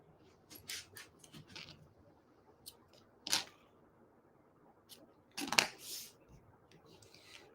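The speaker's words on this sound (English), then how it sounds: "I need to cut the ends off a little bit. What do I do with my scissors?" Scissors snip through paper and cardstock on a crafting table, a few short separate crisp cuts spread across a quiet moment, close by and alone with faint handling noises between them.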